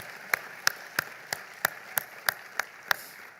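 Applause at a sports hall of fame induction ceremony, heard as about nine slow, evenly spaced claps, fairly faint and close, with no other sound around them.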